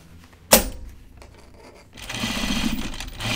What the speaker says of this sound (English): You don't have to sew the waistband in all one stitch like I'm doing